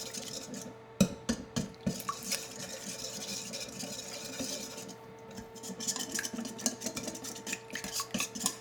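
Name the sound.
whisking key lime pie filling in a bowl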